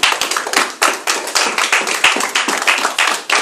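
A church congregation claps hands rapidly and loudly in a sustained burst of applause to acclaim the Lord, with a dense run of sharp claps.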